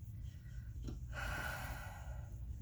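Heavy, close breathing in quiet, steady gusts of air with a sharper gasp-like inhale midway, faint overall and with no talking.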